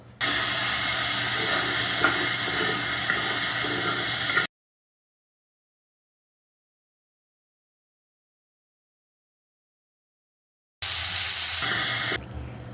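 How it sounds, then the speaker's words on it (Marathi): Fresh green chickpeas hit a pan of frying onion with a steady, loud sizzling hiss, which cuts to silence partway through and then briefly returns. "आता आपण त्यामध्ये आपण जे ओले हरभरे घेतले होते ते टाकणार आहोत"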